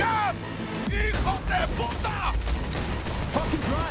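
Rapid gunfire in Cyberpunk 2077 during a car chase, dense bursts of shots running throughout, loud and mixed with game effects and voices talking over it.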